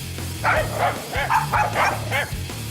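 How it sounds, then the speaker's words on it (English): A dog barks in a rapid series of about six close barks over a steady low engine-like hum, with no talking. "That's a dog for sure."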